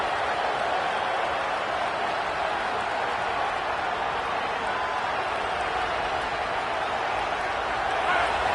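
A football stadium crowd roars steadily during a defensive stand near the red zone, a dense, unbroken wash of massed voices that stays loud and even throughout with no single voice standing out.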